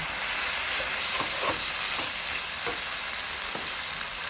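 Pad thai ingredients, including sweet soybean paste and dried shrimp, sizzle and hiss loudly in a hot pan, with scraping stir strokes breaking through the steady frying close up.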